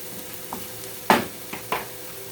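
Salmon and apple-potato hash cooking in a pan, a faint background sizzle broken by a few short stirring scrapes and clinks, close by and without talk.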